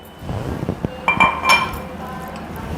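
Tomatoes dropped into a mixer jar while making roadside chutney, producing a few quick clinks and knocks against the jar, close by, with faint talk in the background.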